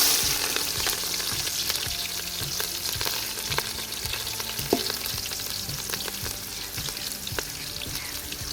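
Chopped ginger, garlic and green chillies fry in hot sunflower oil, a steady close sizzle with a few sharp crackles and soft stirring taps running throughout.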